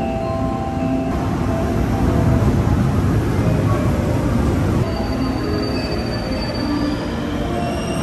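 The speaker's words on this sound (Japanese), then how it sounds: "特急サンダーバードが入線してまいりました。" A Thunderbird limited express train rolls into Kanazawa station with steady, loud rumbling and squealing wheels on the rails, a continuous close mechanical roar throughout.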